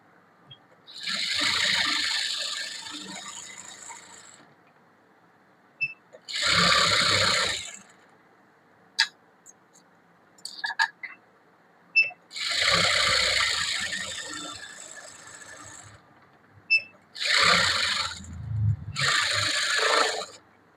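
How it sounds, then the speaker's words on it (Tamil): A sewing machine stitches all the way around a blouse in separate bursts, with stretches of quiet between them and small clicks in the gaps. "ஃபுல்லா சுத்திலும் தையல் தான் போறேன்"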